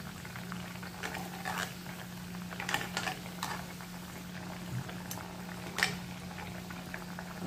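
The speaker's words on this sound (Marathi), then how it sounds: "अशा मी सगळ्या वड्या तळून घेते" Colocasia leaf rolls (alu vadi) deep frying in oil over medium heat, giving a steady, faint bubbling sizzle with a low hum underneath and occasional soft pops.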